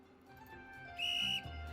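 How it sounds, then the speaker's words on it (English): A shrill whistle blast in a video game, a piercing sustained tone that cuts in midway over a soft background music bed, then stops abruptly. "A shrill whistle blows"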